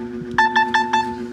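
An Infinix or Tecno phone's security alarm sounds during repair because its password has not been entered. It gives four loud, evenly spaced electronic beeps over a steady background hum.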